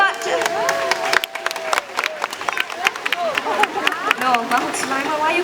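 A mahout claps his hands at a Singapore Zoo elephant show, sharp irregular claps over crowd murmur and a commentator's amplified voice.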